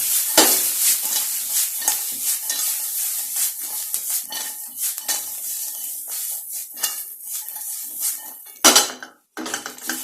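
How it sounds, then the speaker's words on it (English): Baby corn pepper fry with soya sauce, salt and pepper powder is tossed in a pan, giving loud rattling sizzles and scraping metallic clatter throughout, ending in a brief burst and then silence. "And give this a nice toss."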